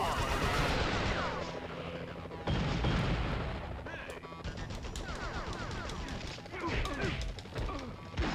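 Gunshots and crashing impacts in a Spider-Man video game burst loudly in a chaotic fight, sharp cracks and smashes piling up over a few seconds amid game noise.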